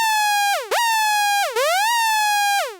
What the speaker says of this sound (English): with the sync off, you can hear the tuning of oscillator A changing.